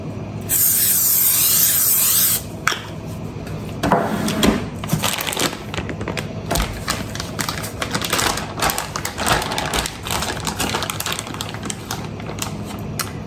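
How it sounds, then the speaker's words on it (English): A burst of cooking oil spray hisses for about two seconds onto dehydrator trays for beef jerky, followed by light clatter and tapping of the trays being handled close by. "I'm going to give these a quick spray."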